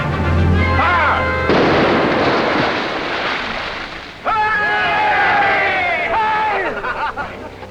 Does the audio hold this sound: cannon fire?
yes